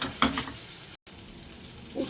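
Prawn stuffing for potol dorma stirs and sizzles in a pan nearby, with scraping strokes at the start and end around a steady frying hiss and a brief dropout in the middle.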